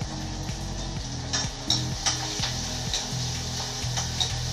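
Brinjal and garlic sauté in a hot pan with a steady, loud sizzle, a low rhythmic mechanical pulse running underneath and occasional light clinks of utensils against the pan.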